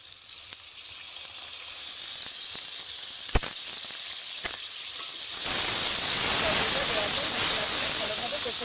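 Whisked sour yogurt goes into a hot pan of masala for a fish curry. A soft sizzle with a few knocks swells into a loud, dense hiss once the yogurt hits the pan.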